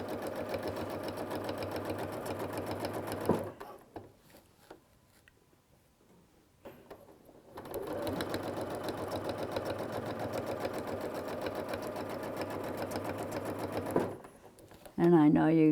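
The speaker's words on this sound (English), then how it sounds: "Stitch up the ditch till I hit the plastic and then come around." A sewing machine stitches a quilt along a plastic clamshell template in steady continuous whirring runs, pausing briefly in the middle, then resuming before stopping near the end.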